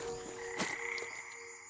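Canauaru frog croaking, a short rasping call rising out of a humming night chorus of insects and frogs, faint and somewhat distant, with no voices.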